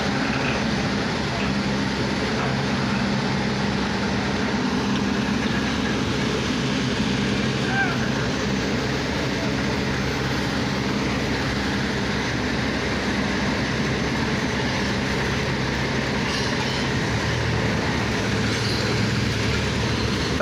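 A Mahindra 475 DI tractor pulls a full, roughly 20-tonne load of sugarcane, giving a steady, heavy engine drone with rolling rumble that holds unbroken for about twenty seconds.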